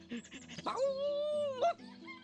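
A dog in the video game Divinity: Original Sin gives a short, agitated vocal yelp and a whimpering, drawn-out whine, close and fairly quiet over soft background music.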